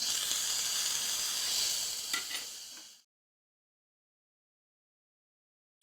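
Tomato pieces dropped into chickpea rice frying in a pan for chana biryani give a steady close sizzle with a couple of brief clatters, which cuts off abruptly after about three seconds, leaving silence.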